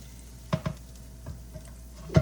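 Browned bits are scraped off the bottom of a sizzling pan after frying garlic: a quiet background sizzle broken by a few short, sharp scrapes, two close together early on and a louder one at the end.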